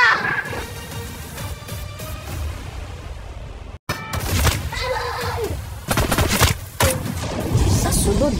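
A rapid series of explosions and gunfire rattles through a tense TV drama scene, sharp bursts and booms stacked over dramatic music, with a brief silent cut midway before the barrage resumes even louder.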